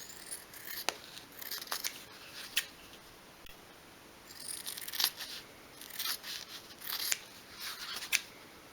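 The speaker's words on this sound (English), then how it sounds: "trim around your card." Scissors snip around a piece of card for a 1/12th scale miniature bedroom bench, a series of crisp, close cuts at irregular intervals with quiet pauses between them.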